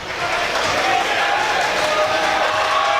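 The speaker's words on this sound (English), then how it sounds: "And now the crowd gets into it, maybe for the first time tonight." A high-school basketball crowd, Absegami against Ocean City boys, roars and cheers steadily at a gym after a made free throw, a dense, continuous wash of voices.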